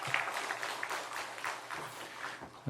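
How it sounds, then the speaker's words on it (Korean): Applause from a church revival gathering audience, a dense, continuous patter of many hands clapping at moderate volume throughout. "다시 한번 박수로 격려해 주십시오"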